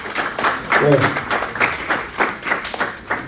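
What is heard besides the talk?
audience applauding staff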